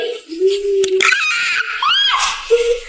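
A child screams loudly in a short outburst, rising and falling, with a brief high squeal near the end, in a room at an anniversary event with other voices nearby.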